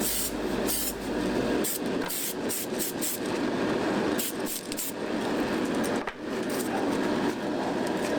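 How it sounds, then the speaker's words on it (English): Spray can of Tamiya XF66 paint applied to the upper deck of a 1/350 scale HMS King George V model, a series of hissing bursts in short passes, close and fairly loud. "I happen to have a spray can of XF66, so I'm going to use that instead of setting up the airbrush."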